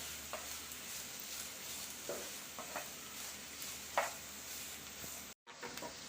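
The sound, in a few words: onion frying in pan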